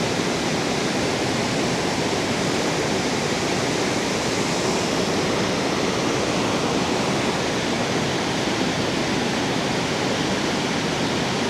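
Cave Falls in Yellowstone, a 114-foot waterfall carrying millions of gallons a day, roars as a dense, steady, full-bodied rush of falling water, loud and unbroken throughout.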